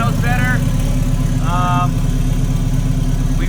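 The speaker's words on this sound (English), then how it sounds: "It sounds better, it idles better." A turbocharged Honda K20/K24 engine idles steadily at close range, a continuous low rumble running without pause, with brief speech-like tonal sounds rising over it twice.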